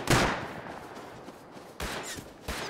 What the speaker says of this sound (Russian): Нет, еще стреляет этот хер.